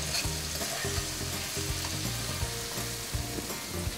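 Fried rice (nasi goreng) ingredients sizzle loudly and steadily in a pan, with stirring scrapes and light clinks throughout and no talking.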